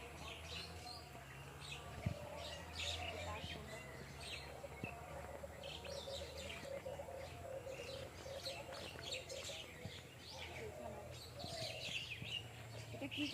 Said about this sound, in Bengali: এই যে উপরে কিন্তু পাখি কিচিরমিচির ডাকতেছে